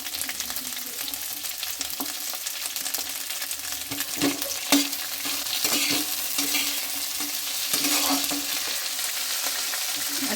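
Vegetables with cinnamon and spices frying in a pan while being stirred: a steady close sizzle with repeated scraping strokes of the spoon, moderately loud and continuous, with no talking.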